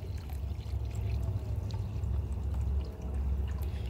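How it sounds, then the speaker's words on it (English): Water pours steadily into a container for making compost tea, a continuous splashing, gurgling stream close up with no talk. "we're just gonna basically fill this one up with water"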